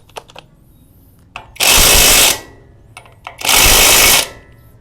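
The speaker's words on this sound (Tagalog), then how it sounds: "ito na yung isa sa pinakamagandang impact wrench na nasubukan ko" Two loud, sustained bursts from a Purple Star cordless impact wrench spinning off a rusty nut, each lasting under a second, separated by quieter clicks and handling noise, with no talking.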